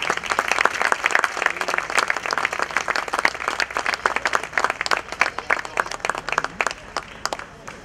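A crowd at an outdoor summer music concert claps in steady, enthusiastic applause that carries on for several seconds, lively and fairly close, with a few cheers mixed in.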